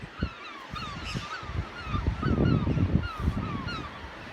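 Seabirds crowd Sugarloaf Rock below a cliff at the south end of the Isle of Man, a dense chorus of honking, goose-like calls rising and falling continuously over low wind and surf.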